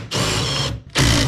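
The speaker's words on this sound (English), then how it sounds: "The angled screwdriver to the rescue." A power screwdriver, an angled driver, whirs in two sustained, loud bursts with a short pause between, backing bolts out of an abandoned Argo amphibious vehicle.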